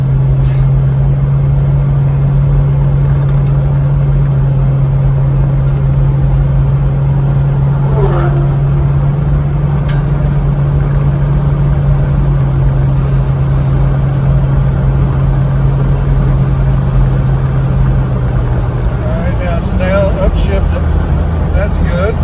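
Jeep TJ Wrangler with its check engine light on pulls up a hill, a steady mid-low engine drone holding throughout and shifting near the end, with a voice talking over it.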